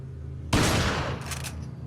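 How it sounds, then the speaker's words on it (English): A single loud shotgun blast in Resident Evil 4, a sudden sharp report with a decaying rumble and a faint clatter just after. "See if I can reach it with the shotgun."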